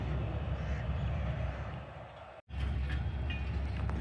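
The Jaffar Express stands at Lahore station, where a loud, steady rumble of train and platform noise fills the air, briefly broken by a short gap partway through.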